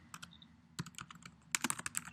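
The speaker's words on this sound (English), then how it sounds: "I'll start typing it there." Quick bursts of typing on a computer keyboard, crisp clicky keystrokes in uneven clusters, close and clear with no voices.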